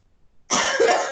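A single harsh cough from a nearby person bursts out after a moment of silence, dry and raspy with a short throaty tail.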